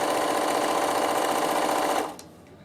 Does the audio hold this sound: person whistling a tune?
no